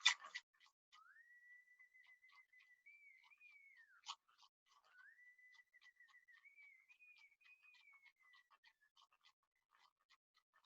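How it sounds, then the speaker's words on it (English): A person whistles a slow, sliding melody of long held notes, quiet and alone against near silence, with a few soft clicks around it. "I like to whistle."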